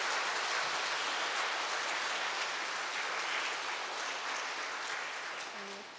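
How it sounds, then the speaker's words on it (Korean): Church congregation applauding a visiting priest after a confirmation catechism lecture, a dense, sustained wash of clapping that thins slightly toward the end, with a brief voice at the close. "다시 한번 큰 박수 부탁드립니다."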